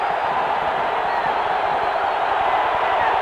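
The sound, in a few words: football stadium crowd cheering for the defense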